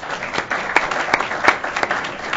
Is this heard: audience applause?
yes